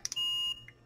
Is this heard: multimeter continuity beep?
yes